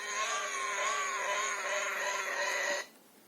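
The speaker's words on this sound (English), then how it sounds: "It's a pig." A farm pig gives one long, loud, strained squeal lasting nearly three seconds, then cuts off abruptly into near silence.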